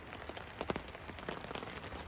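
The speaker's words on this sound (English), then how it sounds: "As I'm sure you can hear, it's quite the storm" Steady heavy rain pours down on a forest hammock camp, a dense wash of drops hitting surfaces with scattered louder splats throughout.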